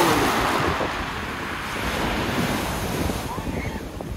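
Black Sea surf breaks on a Sochi beach in December, a steady wash of waves with strong wind buffeting the microphone, near and continuous with no talk.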